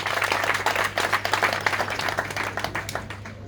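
An audience at a political rally in Gabon applauds with dense, steady clapping that carries on throughout at moderate loudness, a low mains hum underneath.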